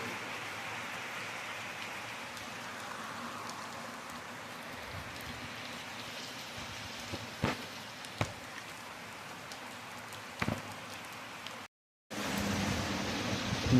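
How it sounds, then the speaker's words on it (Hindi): Steady broadband hiss of fast, heavy night rain falling continuously, with a few sharp drips or knocks and a brief dropout near the end before the downpour resumes louder. "बड़ी स्पीड च बारिश लत्ती दी है।"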